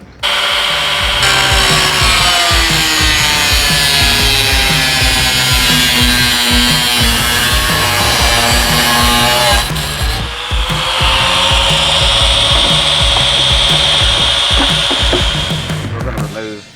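A power saw cuts loudly and steadily through Jeep XJ body sheet metal for a cut-and-fold modification, a sustained harsh whine with a shift in pitch partway through, close up and dominating.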